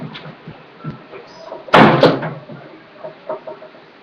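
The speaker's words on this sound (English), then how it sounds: "I've got to close the door." A door is shut with one sharp, loud slam and a quick rattle right after, set against quiet room noise and some faint background sounds.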